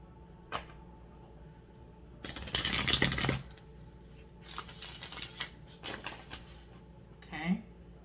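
Tarot cards being shuffled in the hands, with a loud riffling burst followed by a few softer rustling passes and a brief tap near the end.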